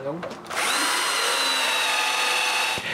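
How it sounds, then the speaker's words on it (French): Power drill driving screws to fix wood pieces in place while building a firewood shelter behind a workshop, one loud continuous whirring run lasting nearly the whole moment, close and alone. "Je les visse donc à leur place."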